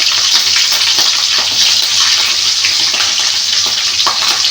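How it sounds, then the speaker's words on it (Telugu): Green chillies and ridge gourd peel fry in hot oil in a pan, giving a loud, steady hiss and sizzle close up with no one talking. "అది వేస్ట్ చేయడం ఎందుకని నేనైతే వాటిలోనే ఇప్పుడు వీటన్నిటిని వేయించుకోబోతున్నాను"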